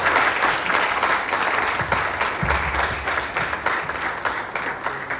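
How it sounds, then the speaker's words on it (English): Audience applause fills a hall at the 15th SLANGO annual general meeting of NGOs, steady dense clapping for the Deputy Minister of Planning and Economic Development, close and sustained throughout. "he deserves a more round of applause for that"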